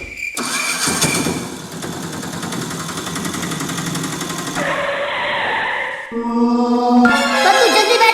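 A cartoon tractor engine cranks and catches, sputtering through a few uneven bursts before settling, followed by squealing and tonal effects, loud and close with no talk.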